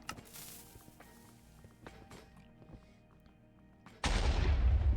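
Several sharp explosive cracks in Minecraft ring out over a steady game hum, then a loud, sustained rumbling blast takes over for the final second.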